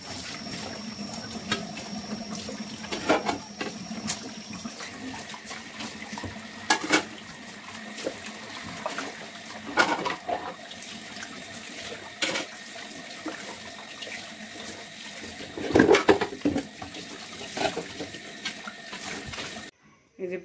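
A kitchen tap runs while dishes are washed, with a steady stream of water broken by clinks and knocks of dishes being handled at intervals, close and moderately loud, no talking.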